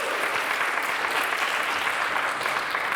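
An audience at a retrofit gathering at the Centre for Alternative Technology in Machynlleth gives a steady round of applause, continuous dense clapping at even loudness with no talk.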